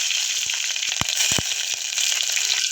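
Green chillies drop into hot oil already holding mustard seeds and cumin for a dal fry tempering, a loud, close, continuous sizzle with a few sharp spits and pops.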